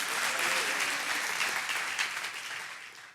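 A church congregation applauds with dense, sustained clapping that fills the room and fades slightly toward the end. No one speaks over it.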